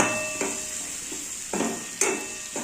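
Cabbage and pigeon peas fry in a pan, with a soft background sizzle broken by three or four sharp scraping bursts as a spoon stirs them, close up and without speech.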